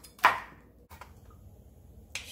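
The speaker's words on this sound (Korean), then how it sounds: "신고추하고 이렇게 송송송송 썰어주세요." A knife slices green chili peppers on a cutting board with three quiet, separate thuds spaced unevenly in a calm kitchen.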